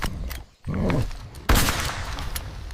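Two loud gunshots crack close by during a wild bull hunt in a forest, each a sharp blast with a short rumbling tail, separated by about a second.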